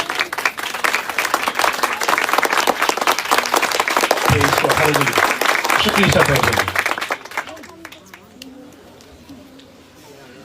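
A church congregation at an Urdu-Hindi sermon breaks into loud, dense clapping that holds steady, then drops off abruptly to a few stray claps while someone speaks briefly in the room.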